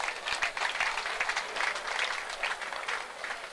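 A crowd at a football cup final ceremony applauds, dense rapid clapping at moderate volume with slight swells, continuing steadily for a few seconds without talk.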